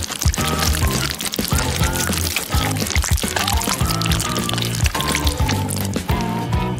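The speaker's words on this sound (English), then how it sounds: "I need to melt the Baskin-Robbins and pour it out." Melted Baskin-Robbins ice cream pours out in a thick, continuous glugging stream, loud and close, with rhythmic splashing and gurgling throughout and no voices.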